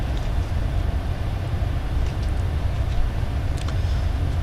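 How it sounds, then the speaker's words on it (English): Aircraft engines in Microsoft Flight Simulator 2020 drone steadily with a loud, continuous low rumble and broadband roar, with no voices over it. "Listen to them engines."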